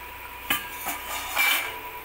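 A metal lid lifts off a pot of fish curry with a few close clanks and scrapes, over a faint background hum.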